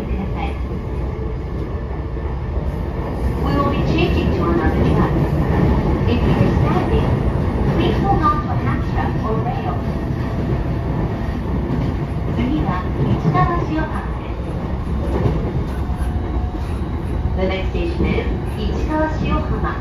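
A JR Keiyo Line E233-5000 series train, set 510, runs between Futamatashinmachi and Ichikawashiohama, heard from inside as a continuous loud rumble with a rhythmic rail clatter and motor hum throughout.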